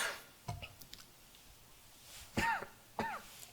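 A preacher coughs during a Korean church worship sermon, giving a few sharp, close throat-clearing coughs spread across a quiet room.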